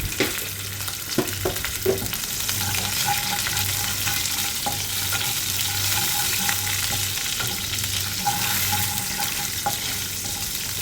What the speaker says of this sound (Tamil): இது எல்லாத்தையும் நல்லா பொன்னிறமாக வறுத்துக்கலாம்